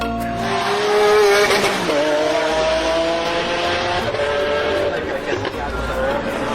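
A Lamborghini Centenario sports car revs and accelerates hard, its engine note climbing through sweeping pitch shifts and gear changes, loud and close throughout.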